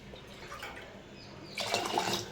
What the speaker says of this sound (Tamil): 2 டம்ளர் அரிசி தண்ணி ஊற்றுறோம்